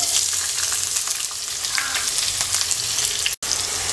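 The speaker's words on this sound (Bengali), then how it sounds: "পেঁয়াজটা হালকা ভেজে নেব" Two medium chopped onions sizzle steadily in hot oil with whole cumin seeds, a close, constant frying hiss with light stirring and a brief dropout near the end.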